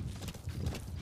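Horse hooves in Metal Gear Solid V: a brief burst of close, quick clip-clopping steps over a low rumble, with no voices.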